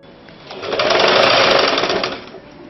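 A sewing machine runs in one continuous burst, stitching two cross pieces of fabric together for a sleeveless umbrella frock, with its fast even whir rising and then easing off, close and loud, with no voices.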